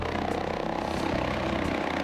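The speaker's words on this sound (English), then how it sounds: "That was me practicing flying the Bell helicopter in BeamNG." Bell 407 helicopter flying in the BeamNG driving simulator, heard as a steady, continuous rotor and engine drone with a low throbbing hum, holding even loudness throughout with no talking.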